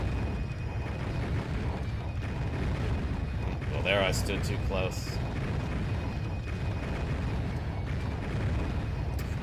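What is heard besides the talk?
machinery and falling explosions in the video game Alundra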